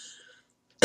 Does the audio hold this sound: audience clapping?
no